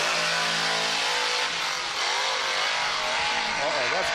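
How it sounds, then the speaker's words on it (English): Mitsubishi Lancer GT with a six-speed manual accelerating hard and spinning a tire at a drag shootout, a revving engine with rising pitch sweeps, heard amid crowd noise with people talking. "So that's the Grudge Wars truck versus Colette in the Lancer GT. 6-speed manual. Spinning the tire"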